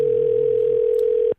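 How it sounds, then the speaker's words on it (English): A telephone dial tone as a call is being placed: a steady, continuous tone that holds alone for over a second, then cuts off abruptly. "Let's go ahead and make this phone call real quick."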